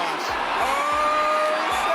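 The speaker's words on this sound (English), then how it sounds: "the mob's screams became deafening as they rushed through the entrance" A Black Friday crowd screams and whoops as it rushes through a store entrance, a dense, loud wall of overlapping yells with a few voices rising above, held steady for two seconds amid thumping bursts.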